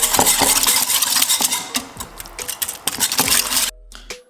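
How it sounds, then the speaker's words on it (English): A spoon stirs canned tuna with mayo in a bowl, a busy close clatter of metal scraping and tapping that runs steadily, then stops abruptly near the end. "Some of the canned tuna. And basically we just stir it up."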